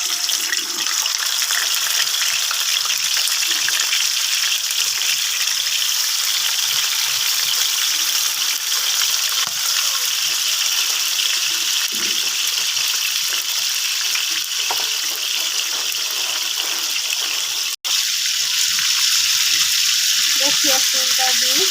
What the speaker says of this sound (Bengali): এখন আমি রানটা হচ্ছে লবণ মাখাইয়ে হচ্ছে ভাজবো